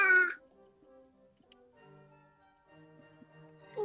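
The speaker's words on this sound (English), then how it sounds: "that's a cat!" A cat gives a clear, close meow at the start, followed by quieter, drawn-out caterwauling tones, with a faint ticking in the background.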